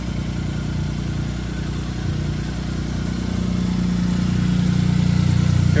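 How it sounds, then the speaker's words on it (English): 1998 Suzuki Jimny K6A turbo engine idling steadily, a loud, close, low rumbling drone that stays smooth and even, growing slightly fuller toward the end. "here's the engine, how it runs"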